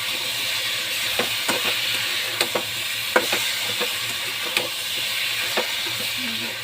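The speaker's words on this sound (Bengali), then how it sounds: "সুন্দর করে মশলাটা কষিয়ে নিলাম" Ground ginger and green chili paste fries with pumpkin in a pan, a steady sizzle broken by repeated sharp scrapes and taps of a spatula stirring, close and loud, with no one speaking.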